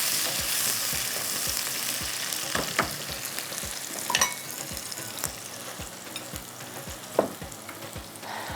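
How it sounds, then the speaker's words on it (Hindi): Onions fry in a pan with butter on the way to browning, producing a dense, steady sizzle with scattered crackles and soft stirring scrapes, close and continuous with no voices. "सबसे पहले यहाँ पर मैंने रख दिए हैं प्याज को, ये ब्राउन होने के लिए"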